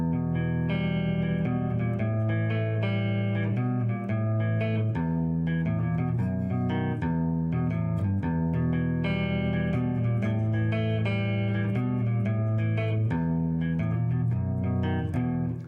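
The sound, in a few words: guitar parts from a song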